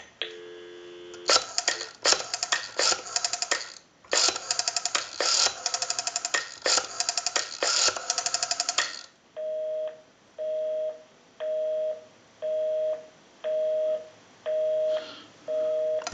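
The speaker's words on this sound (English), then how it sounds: "We'll give you some dial tone and we'll call my number and it'll be busy." A steady telephone dial tone, then a quick run of dialing on a Western Electric 202 rotary desk telephone, followed by an evenly paced busy signal beeping about eight times.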